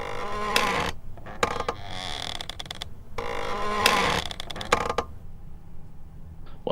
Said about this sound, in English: Well, that's a door creaking.